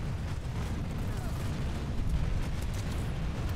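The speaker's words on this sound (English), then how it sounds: "Oh, bloody concussion grenade. That does make the screen look rather awesome." Concussion grenade blast in the video game Planetside 2, a dense rumbling eruption with a sustained low roar filling the short stretch, loud and close with voices nearby.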